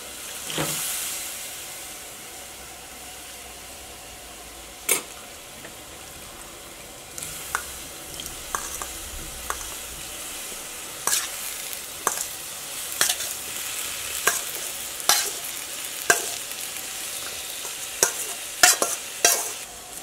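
Lovi-lovi fruit (lubikka) for pickle sizzles steadily in a pan while a utensil scrapes and stirs, with sharp clicks and knocks growing more frequent toward the end.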